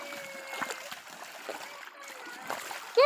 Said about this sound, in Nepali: यसरी पानीबाट हिँडेर जानुपर्छ।